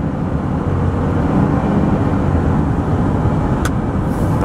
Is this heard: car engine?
yes